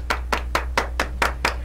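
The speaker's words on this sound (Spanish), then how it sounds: "Un fuerte aplauso para Milagros." Evenly spaced hand claps in a TV studio on a Peruvian talk show, seven sharp slaps in a steady rhythm over a low electrical hum, close and clear with no talking.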